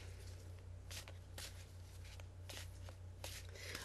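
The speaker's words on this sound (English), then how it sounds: "I was shuffling the Archangel Michael prayer cards." Prayer cards being shuffled in a few quick riffling bursts, close and fairly quiet, over a steady low hum.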